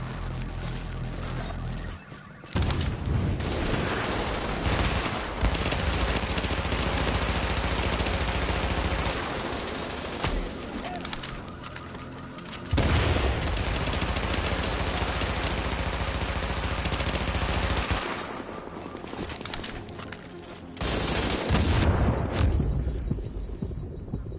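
Sustained automatic gunfire in a team-based shooter video game, loud and dense bursts lasting several seconds each, broken by short pauses, with a steady low hum underneath.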